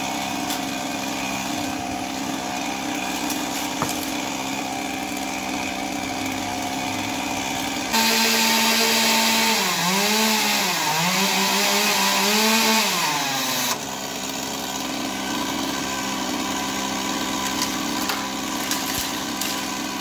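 A chainsaw running while a hedge tree is cut and felled. The motor idles steadily, then revs hard into a loud cutting stretch with rising and falling pitch before dropping back to idle. No speech.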